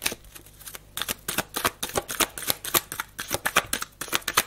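Divination cards being shuffled and drawn, a quick run of crisp riffling flicks and snaps repeating close by in irregular bursts, with no talking.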